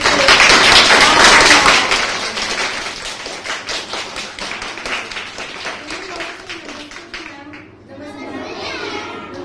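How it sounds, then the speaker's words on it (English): Schoolchildren in a Delhi classroom clap loudly together, fast and close at first, then settling into slower rhythmic claps that fade, with children's voices chattering over the end. "Can we have a huge round of applause?"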